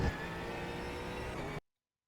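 GT4 race car at Road Atlanta under hard throttle, a steady loud engine drone held for about a second and a half before cutting off abruptly into silence.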